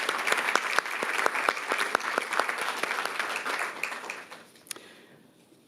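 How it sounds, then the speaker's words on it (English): Audience at a school district meeting applauding honorees, a crowd of clapping hands with clear individual claps, steady at first then thinning and fading out toward the end. "So another round of applause for all of these amazing people."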